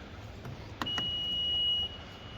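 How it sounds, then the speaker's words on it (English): A 2023 Honda Odyssey EX-L power tailgate gives a single steady electronic beep of about a second at close range, following a brief click against low background hum. "Click and hold this bad boy, wait for a double beep."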